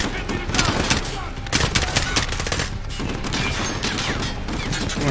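Close, loud small-arms fire from Call of Duty: Modern Warfare, with repeated bursts of rapid shots and short gaps between them, over an ongoing din of battle.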